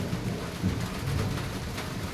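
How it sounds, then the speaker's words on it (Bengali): A low, steady rumble of thunder rolls beneath a constant wash of rain, moderately loud and without pauses. "শুনতে পাচ্ছো বৃষ্টি ডাকছে"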